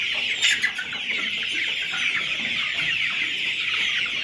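Layer hens cluck in a poultry house during winter, a steady dense chorus of overlapping clucks and soft calls filling the space, close and continuous with no voices.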